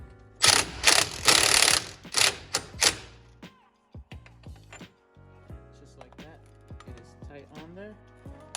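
An impact wrench drives a wheel hub bolt on a 2003 Infiniti FX35, giving several loud, close hammering bursts in quick succession, followed by quieter clicks and handling noises, with speech mixed in.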